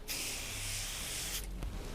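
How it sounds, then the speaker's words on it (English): Rubber rejuvenator and cleaner sprayed onto a small cloth, one steady close hiss lasting over a second and then cutting off, followed by quiet handling noises. "take some of our rubber rejuvenator and cleaner and spray it onto a small piece of the cloth here"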